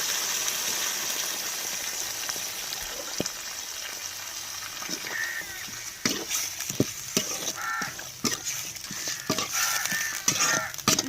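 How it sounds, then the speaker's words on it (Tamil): A chicken curry with salt and a splash of water is stirred in a pot, giving a steady simmering hiss with irregular scraping and clacking strokes that grow busier later, and crows cawing faintly outdoors. "லைட்டாக தண்ணி ஊற்றி கிண்டி விட்டுக்கிறோம்"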